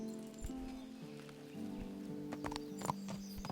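Horse hooves clop in Kingdom Come: Deliverance, a soft, irregular patter over a steady low ambient hum, with a few sharper knocks near the end.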